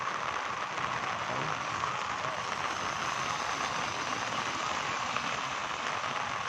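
Steady rain falls during a flood in Kuantan, a dense even hiss of drops on surfaces that continues without break, fairly close and alone with no talk.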